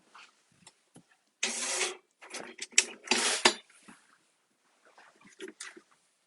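A small paper cutter is picked up and handled for cardstock crafting, giving close clattering knocks and a couple of louder scraping, rattling bursts amid quiet gaps.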